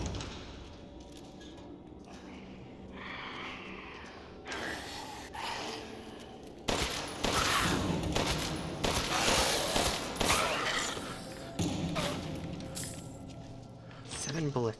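Gunfire from the Resident Evil Village video game, a run of shots and bursts mixed with game effects and music, growing louder and denser in the second half, with a voice talking over parts of it.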